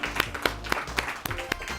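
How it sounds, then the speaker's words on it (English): A studio audience at a school Science Bowl quiz competition claps in a steady, dense burst of applause, close and lively with sharp individual claps standing out. "Let's have a nice round of applause for everybody here"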